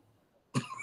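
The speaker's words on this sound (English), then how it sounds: "Choking on spit." A single sudden, harsh cough bursts out after a near-silent moment, close and fairly loud.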